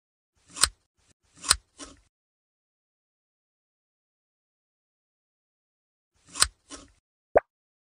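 Crisp scissor snips from an ASMR belly fat surgery animation, a few close, quiet cuts in two clusters separated by a long silence, ending with a short bright tick.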